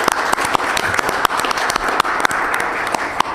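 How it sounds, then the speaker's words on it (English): A crowd applauds steadily at a council meeting, a dense patter of many hands clapping at close range for a few seconds. "perhaps a round of applause"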